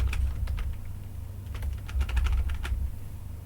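Steady computer keyboard typing with quick key presses and hotkey combinations such as caps lock with a letter, close and crisp over a low steady hum, with denser bursts of clicks toward the middle.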